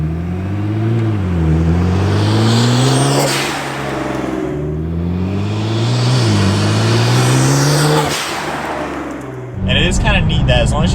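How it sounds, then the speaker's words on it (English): A Nissan GTR fitted with a Tial vent-to-atmosphere blow-off valve revs up and down twice, loud and close, then ends with a sharp whooshing release of air. "you can run a vent to atmosphere blow-off valve on a Nissan GTR"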